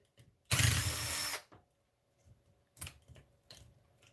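A power screwdriver whirs for about a second, backing screws out of a Traxxas Maxx RC car chassis, followed by soft clicks and handling of small parts, close up.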